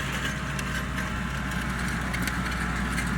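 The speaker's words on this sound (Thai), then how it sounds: "ไฮดรอลิกขึ้นลงเร็วนะครับผม ไม่ต้องเร่งเครื่องครับ" Kubota L4508 tractor with front blade, rear plough and rotary tiller attached, its diesel engine idling steadily at low revs with a constant low rumble, close and unchanging throughout.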